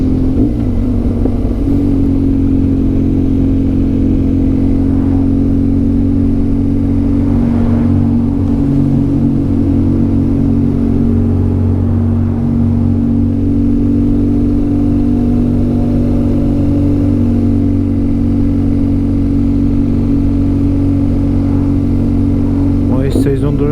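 A motorbike rides on the Alpine road E62 from Italy toward the Swiss border, its engine holding a steady loud drone over constant wind rush throughout, with a voice talking occasionally over the ride.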